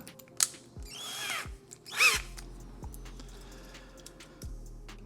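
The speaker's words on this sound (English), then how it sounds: "we will switch over to the larger drill bit to pop the rivet head off" A power drill bores out a rivet head on a Hot Wheels Tokyo Drift Mustang die-cast car, with several short whirring bursts, scraping metal and clicks between runs, close and fairly quiet.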